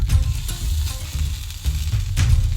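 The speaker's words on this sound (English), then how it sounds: "So now let's fry up this piece of meat." Spam or ham slice frying in a pan for a sandwich, a steady close sizzle and crackle with a few louder spits of fat, no talking.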